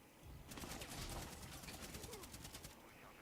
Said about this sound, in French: on est entre deux coups de feu